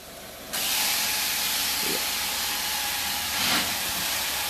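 A loud steady hiss of steam spraying from a steam cleaning wand begins abruptly and holds, with a brief surge near the end; no voices, in a daycare center.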